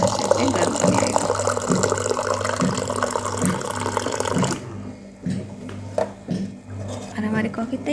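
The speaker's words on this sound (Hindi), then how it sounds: "गर्म पानी आएगा" Hot water runs from a dispenser into a coffee cup with a steady close pour that stops about halfway, leaving quieter handling noises and faint talk.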